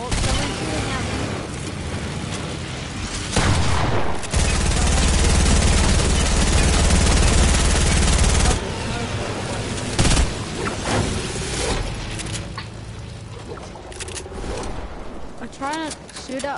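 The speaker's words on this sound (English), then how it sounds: "someone's shooting at me" In a video game squad match, rapid gunfire and loud bursts of shooting dominate, including a long dense roaring stretch, with overlapping shots and booms while a player talks throughout.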